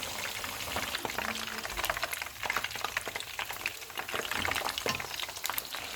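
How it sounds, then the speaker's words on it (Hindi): Chicken pieces fry in hot oil over a medium flame for chargha biryani, crackling and bubbling steadily with scattered sharp pops. "ऑयल गर्म हो गया, अब हम चिकन को फ्राई कर लेते हैं।"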